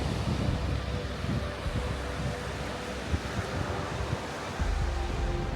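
Stormy Atlantic Ocean surf with strong wind, a steady broad roar of waves and gusts buffeting the microphone throughout, with no voices.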